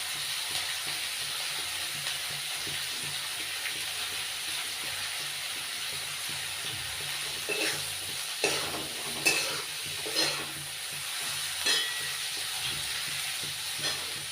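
Green chillies and chopped onion fry in a pan for a chilli dish, giving a steady, even sizzle throughout with a few soft clinks and stirring scrapes near the end. No one speaks.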